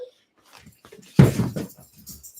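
A pet dog whimpers and whines in short bursts close by in a quiet indoor room, with soft breathy sounds between the cries and no talking.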